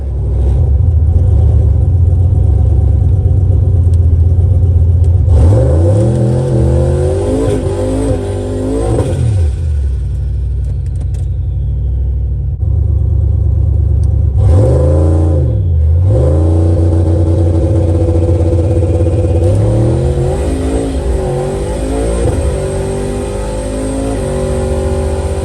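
Drag cars, including a Nissan R35 GT-R, launch and accelerate hard down the strip at Sydney Dragway, loud engines rising through gear changes in two main passes with steady crowd-level rumble between.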